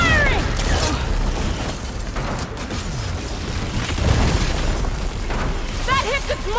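Ballista firing in Horizon Forbidden West, a booming explosive blast and mechanical clatter under loud continuous game action, with a big impact rumble midway and chirping machine sounds.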